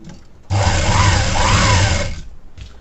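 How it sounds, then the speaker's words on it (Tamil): A sewing machine runs a straight seam on a blouse in one steady burst of about one and a half seconds, a loud continuous whirring drone that starts abruptly and then stops, with no voices. "அப்படியே ஸ்ட்ரைட்டாக தையல் போட்டுக்குவோம்"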